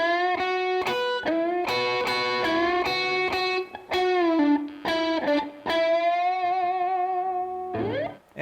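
Electric guitar with distortion playing a section of a solo: a run of picked, sustained notes with bends, then a quick upward slide at the end, heard up close and alone.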